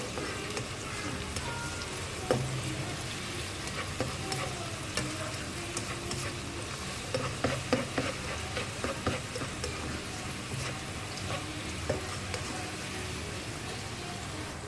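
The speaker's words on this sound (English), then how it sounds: "Stir the onions until it changes color to a slight brown." Onions sizzle steadily in a pan for Indian-style pasta, with occasional stirring scrapes over a constant frying hiss and no voices.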